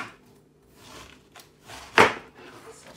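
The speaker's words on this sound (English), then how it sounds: "I'm going to cut the rest of my slices here." A knife cuts slices of food on a cutting board during home meal prep, giving a few soft scraping strokes and then one sharp, close chop, all fairly quiet with no talking.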